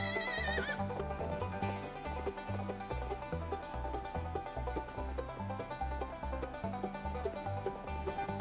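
A horse neighs near the start in the Western video game Cowboy Life Simulator, a short high whinny that fades into loud, steady game music with a pulsing bass line.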